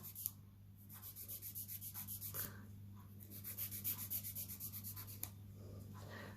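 Rapid, even strokes of a nail file against an artificial nail tip, rasping in steady bursts of rhythmic back-and-forth rubbing, close and fairly quiet over a low constant hum.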